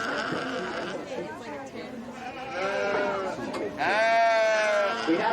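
Several sheep bleat loudly and repeatedly at a sheep fair, their wavering cries overlapping amid a crowd's chatter and nearby voices.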